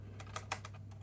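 A quick, quiet run of keystrokes on the replaced keyboard of a Dell Latitude CPi laptop, with several distinct clicks close up and nothing else heard.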